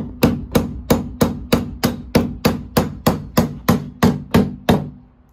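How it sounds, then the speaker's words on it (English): A steady series of about a dozen sharp hammer blows striking a metal joist hanger, evenly paced and close, ringing briefly after each hit. "Now I'm going to take my trusty hammer."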